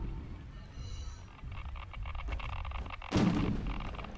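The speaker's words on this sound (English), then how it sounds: "Big explosions." Heavy explosions in the sci-fi game The Signal From Tolva: a rumbling barrage of distant booms and thuds, with a louder sharp blast near the end, no talk over it.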